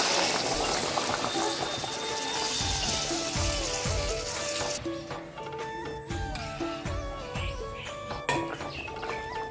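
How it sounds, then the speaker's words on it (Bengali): Water poured into a pot of browned goat meat and potato curry, a rushing stream at first that gives way to bubbling and clinking, with faint voices in the background. "কষানো হয়ে গেছে, এখন দিয়ে দিব জল"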